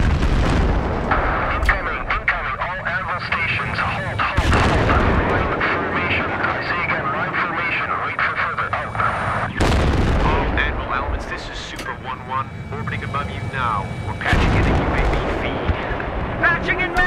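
Artillery shelling in Battlefield 3, with heavy booming explosions landing in repeated waves over a constant aircraft roar, loud and close, while voices shout over the din.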